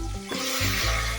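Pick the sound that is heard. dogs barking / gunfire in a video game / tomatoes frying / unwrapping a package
tomatoes frying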